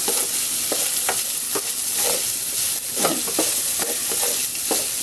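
Ground pork or beef fries in a pan with a steady close sizzle, and a utensil stirs and scrapes against the pan now and then, with no voices.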